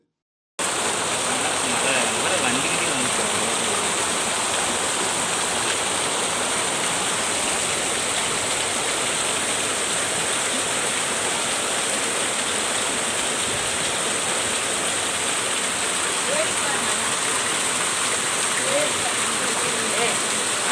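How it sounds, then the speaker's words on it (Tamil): Record heavy rain pours down steadily with rushing floodwater, a loud unbroken wash of noise that fills the scene from start to finish with no clear voices. "இன்னும் தண்ணி நிறைய வருது"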